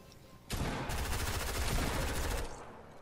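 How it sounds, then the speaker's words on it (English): Rapid automatic gunfire bursts loudly in a Fortnite match, a sustained fusillade of shots lasting about two seconds with dense, crackling repetition before cutting off. "is someone shooting at me?"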